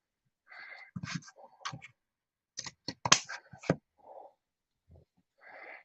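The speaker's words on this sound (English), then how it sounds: "I'm going to take my pinking shears." Pinking shears cut through bright red paper at a craft table, giving a handful of close, crisp snips and crunches separated by short quiet gaps.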